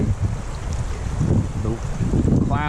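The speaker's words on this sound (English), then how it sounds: "clouds are out, it's windy as anything." Strong wind buffeting the microphone beside the water during a fly fishing trip, a loud rushing roar with gusts, and brief snatches of a voice near the end.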